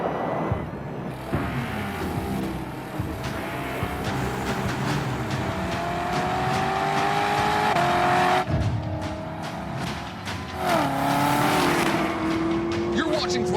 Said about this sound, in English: That supercharger sound, whew, man, it gets me going.